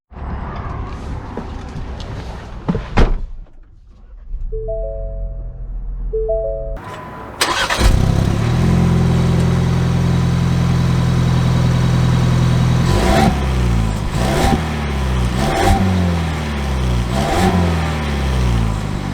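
A Ford Bronco Badlands on 33-inch tires cranks and fires up after a short quiet spell, then its engine idles and revs steadily as the vehicle pulls away and drives, loud and close throughout.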